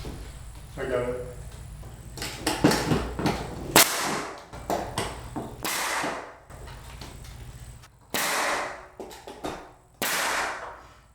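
A nail gun fires into ceiling battens during a salvaged mobile home bedroom rebuild: several sharp, loud bangs spaced a second or two apart, with handling noise and clatter between them.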